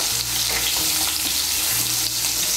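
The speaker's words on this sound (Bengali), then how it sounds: "পেঁয়াজ কুচিটাকে লাল করে ভেজে নেব" Finely chopped onion fries in hot oil, a loud, close, steady sizzle with light stirring throughout and a low hum underneath.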